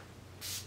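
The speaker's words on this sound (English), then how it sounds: "I'm just gonna use my Skindinavia Bridal setting spray." Skindinavia Bridal setting spray gives one brief, soft hiss of mist onto a face, lasting about a fifth of a second over a low, quiet room hum.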